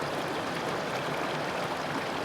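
Waterfall in Glen Etive, a steady broadband rush of falling water that stays even and continuous throughout, with no voices.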